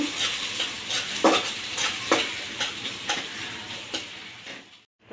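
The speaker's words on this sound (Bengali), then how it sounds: "পেঁয়াজটা ভেজে নিব।" Onions sizzle steadily in oil in a hot pan while a utensil clinks and scrapes at irregular intervals as they are stirred.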